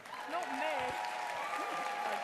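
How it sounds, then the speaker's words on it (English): Audience applause for a presenter at a Variety Club show, a steady wash of clapping that holds even throughout, with voices and cheers mixed in over it. "Can we have a round of applause for Amanda?"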